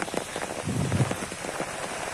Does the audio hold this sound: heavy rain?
yes